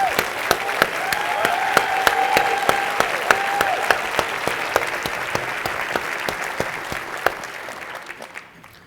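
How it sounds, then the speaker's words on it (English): Large crowd of about a thousand at a legal aid annual meeting gives a warm ovation for Colleen Cotter, thick continuous clapping with sharper individual claps poking through, steady then tapering off at the end. "Please give her a round of applause."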